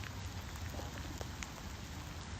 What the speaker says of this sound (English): It's definitely raining here.